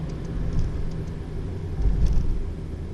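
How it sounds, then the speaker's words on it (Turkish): A Toyota Yaris 1.33 Cool engine revs briefly under light throttle, a low steady rumble inside the car that swells slightly toward the end with no talking. "Şu ışıklardan sonra bir hafif bir gazlama yapalım bakalım e, tepkisi nasıl olacak onu görelim."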